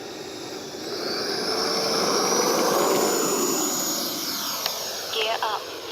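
An E-flite Viper 90mm RC electric ducted-fan jet takes off, its whine swelling and then easing over a few seconds while a person talks over it outdoors.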